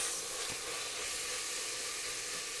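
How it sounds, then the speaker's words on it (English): Tomatoes drop into a pan of frying garlic and onion, producing a steady, even sizzle and hiss with no voices over it. "Now we're gonna add the tomatoes to our garlic and onion mix"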